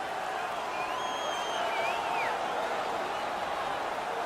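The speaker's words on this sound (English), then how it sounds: "The crowd is so pumped right now." A crowd roars steadily in an NHL 19 hockey video game after a fight, a dense, continuous wash of cheering with thin whistle-like tones drifting over the top.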